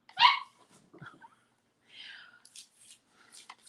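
A puppy gives a sharp bark near the start, followed by a few softer yips and whimpers; quieter rustling and faint voices fill the gaps.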